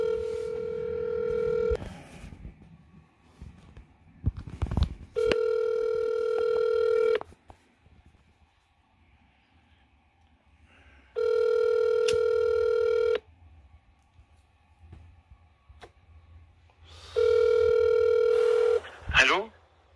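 A telephone rings in repeated electronic bursts, about four rings spaced a few seconds apart, with brief speech and bumps in the gaps.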